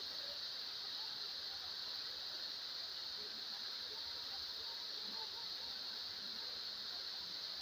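A steady, unbroken rush of falling water, loud and constant from start to finish, with no voices.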